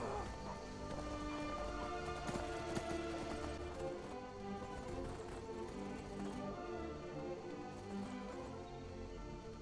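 Steady clip-clop of a Daedric horse's hooves at a gallop in Skyrim, fairly close, with a faint whinny and game background sounds throughout.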